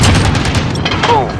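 A gunship cannon round explodes in Modern Warfare 2019, a loud close boom with crashing debris, followed by a brief sweeping tone as the blast fades.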